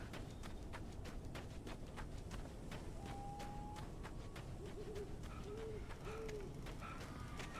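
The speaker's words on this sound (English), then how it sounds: "It is indeed the bird." Owl-like bird hooting in the game Alan Wake Remastered, a few soft, short tonal hoots heard fairly far off against a steady dark ambient bed with faint rhythmic ticking.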